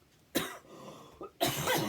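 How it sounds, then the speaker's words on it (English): Two harsh, close coughs separated by a short pause, with a faint throat sound between them. "Of course, now I'm going to cough."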